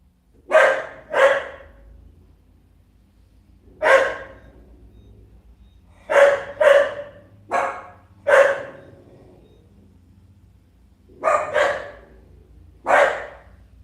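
A dog in a Hawaii yard barks at a visiting yard worker in loud, close bursts of one or two barks, separated by short pauses over a low background hum.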